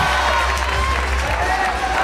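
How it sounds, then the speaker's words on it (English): A dense crowd roars and cheers continuously at a bouldering competition final, loud and sustained with a voice audible over the noise. "The crowd is going wild."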